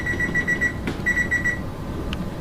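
Oven timer beeping in a kitchen while ribs bake, a rapid string of short electronic beeps in quick bursts, briefly interrupted by a clatter, over low background hum.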